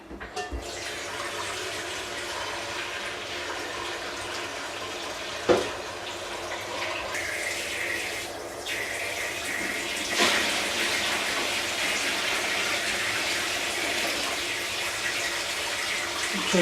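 Fresh tap water runs into a wine fermenting bin, topping it up toward five gallons: a steady, loud pour lasting throughout with a small clunk partway, no talk.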